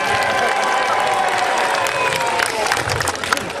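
Outdoor audience at a jester tournament at Muncaster Castle in the Lake District claps and cheers loudly and steadily, a dense sustained roar of hands and voices that swells slightly toward the end.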